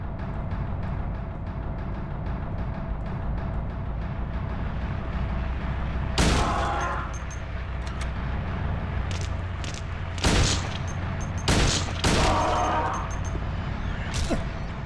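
Shotgun blasts in the survival horror game Silent Hill 2, three or four loud sharp reports at irregular intervals over a steady low ambient drone.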